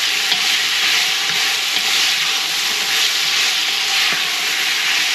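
Tomato paste made from nothing but tomatoes sizzles steadily in a soup pot, a continuous close hiss and crackle of frying that holds at an even level throughout with no voices.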